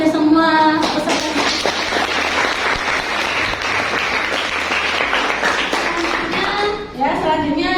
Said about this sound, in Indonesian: Aplaus dulu kepada semua peserta